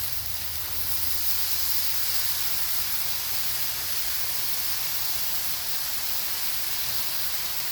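A steady, even hiss of steam and sizzling as frozen vegetables cook on a hot Blackstone griddle, continuous and moderately loud with no talking.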